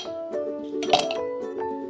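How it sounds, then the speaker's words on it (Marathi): Ice cubes drop into a glass of palm fruit drink, giving a couple of sharp glassy clinks over a faint steady hum, close and fairly quiet. "बर्फाचे खडे."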